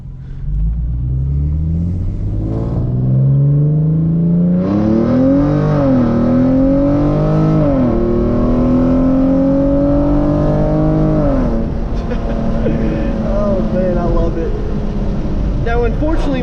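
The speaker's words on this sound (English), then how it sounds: "now let's go for a little drive with this Solo Performance. So we're in manual mode, first gear, traction and stability off." A Genesis Coupe with a Solo Performance exhaust pulls hard in first gear, its engine note climbing steadily in pitch to a loud, raspy high-rev roar before a shift drops it back to a steady drone.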